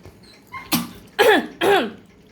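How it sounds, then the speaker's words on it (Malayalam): A dog gives three short, harsh coughs in quick succession, close up, with quiet pauses between them, while eating. "ചുമയ്ക്കുന്നു."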